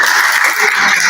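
Applause from an audience at a student council debate, a brief loud wash of clapping that is continuous and close.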